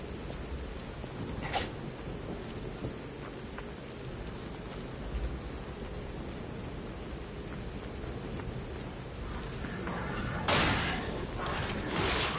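Steady heavy rain hisses throughout a night scene in the video game Lies of P, with a few sharp bursts and a louder swell near the end, and no voices.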